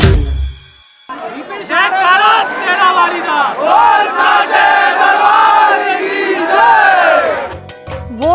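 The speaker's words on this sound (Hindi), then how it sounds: "भक्तों की बड़ी भीड़ हम लोगों के साथ में होती है।" A large crowd of devotees chants and cries out together in a Durga procession through a market area, a dense, loud, continuous wall of voices that swells and holds for several seconds after a quieter start.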